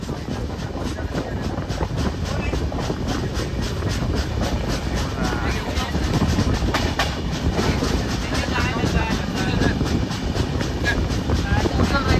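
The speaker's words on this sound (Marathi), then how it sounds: "बघा ट्रेन काय भारी" A train rumbles past close by, steady loud clattering of wheels on rails throughout with no break.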